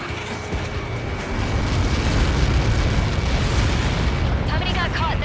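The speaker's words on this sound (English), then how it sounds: "How many got caught in that explosion?" A massive explosion in an Ace Combat game rolls out as a loud, sustained roar of rumbling blast noise that builds and holds, then thins into crackling debris at the end.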